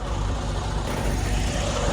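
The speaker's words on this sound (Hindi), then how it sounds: "ट्रक की आवाज भी आ रही होगी।" A truck engine rumbles low and steady on a snowy road at night during the first snowfall in Winnipeg, Manitoba, a continuous broadband drone with road noise and no talking.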